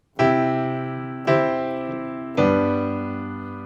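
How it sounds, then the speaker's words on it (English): Piano chord with a bass note added in the left hand, struck three times at an even pace, each full, low-weighted chord ringing out and fading before the next, with no other sound. "You can play a bass note in the left hand,"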